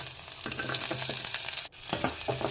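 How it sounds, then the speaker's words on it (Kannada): Tomato being stirred into onions frying in a pan for soup, a steady close sizzle with scraping stirs and a brief pause midway. "ಈರುಳ್ಳಿ ಸ್ವಲ್ಪ ಫ್ರೈ ಆದ ತಕ್ಷಣ ತೊಗೊಂಡಿರೋ 1 ಟೊಮೆಟೊ ಹಾಕಿ ಕೈ ಆಡಿಸ್ಬೇಕು"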